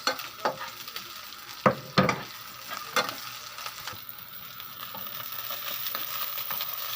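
Garlic and onion sauté for squid adobo, with loud spatula scrapes and knocks against the pan at first. A rising, steady sizzle then fills the rest of the clip.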